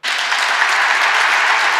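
Loud, dense clapping from a livestream audience, a steady roar of hands beating hard without pause.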